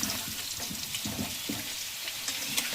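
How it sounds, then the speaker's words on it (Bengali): Whole garam masala and cumin seeds frying in hot white oil for Kashmiri aloo dum, a steady close crackling sizzle with soft popping throughout, no talk. "এটার মধ্যে দেওয়া হয়েছে সাদা তেল আর গোটা গরম মশলা আর সাদা জিরা ফোড়ন। লাল করে ভেজে নিলাম।"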